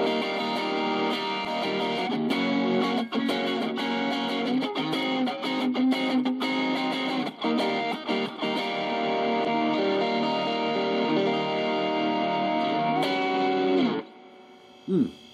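Electric guitar run through an overdrive pedal set for heavy distortion, holding thick sustained chords with scattered pick attacks for about fourteen seconds before cutting off, loud and alone.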